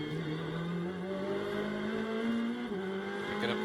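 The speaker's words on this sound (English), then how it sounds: "Picking up the throttle." A GT race car at Las Vegas Motor Speedway revs steadily under applied throttle, its engine note climbing in a sustained, loud drone with a brief dip and recovery near the end.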